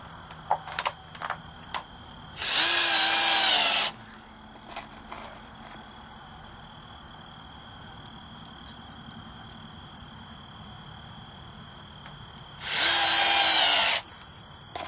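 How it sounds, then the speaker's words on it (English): A power drill drives 3/4 inch lathe screws into bent metal in two loud bursts of about a second and a half each, separated by quiet with faint handling noises. "you want to go along with the 3/4 inch lathe screws and screw it every so many inches underneath"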